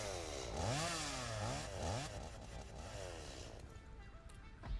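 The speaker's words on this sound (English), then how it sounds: "Part of the research is a chainsaw." A chainsaw in Satisfactory revs repeatedly, its rising and falling engine whine sweeping up and down several times before settling into a rougher, fainter idle.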